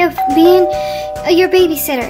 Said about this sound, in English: I think that was the doorbell.